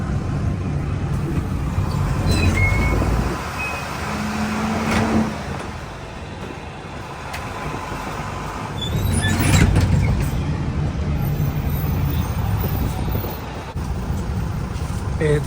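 Bus ride through heavy road traffic in Las Piñas, with a steady engine drone and road rumble that swells and fades, brief hisses and squeals, and traffic passing close by.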